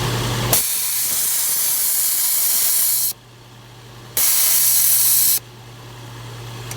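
Air hisses loudly from an onboard compressor hose on a Nissan Xterra while tires are filled, coming in two long steady bursts with quieter gaps between them and a low compressor hum running underneath.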